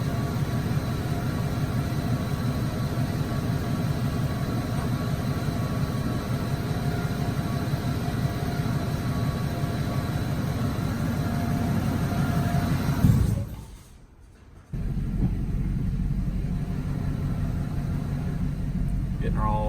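Steady road drone from a truck, project Larry fitted with 16x10 wheels and 33-inch tires, heading to an alignment shop, with continuous low engine and tire rumble that briefly drops out before resuming.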